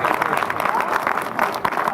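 Crowd applause at a presidential speaking event, steady dense clapping filling the room, loud and continuous with a murmur of voices mixed in.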